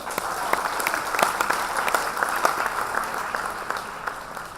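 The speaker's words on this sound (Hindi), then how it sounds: "इसलिए एक जोरदार तालियां हो।" An audience claps loudly and steadily at a corporate stage event honouring a long-serving team leader, a dense, continuous applause lasting several seconds with no talk over it.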